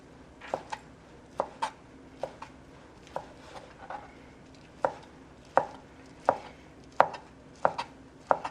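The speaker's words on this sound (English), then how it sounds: "cut it long ways, and then just chop it into shreds" A knife chops a rolled-up omelet into shreds on a cutting board, giving sharp, close, irregularly spaced chops, about a dozen in all, each standing out clearly against quiet background.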